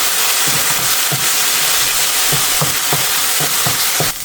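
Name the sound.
ground spice paste with turmeric frying and stirred in a pan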